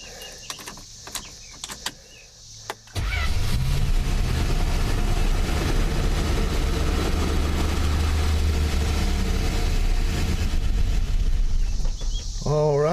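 A long-forgotten Plymouth Valiant cranks briefly, catches and settles into a steady, loud running rumble that holds close and unbroken, after a few clicks and knocks beforehand.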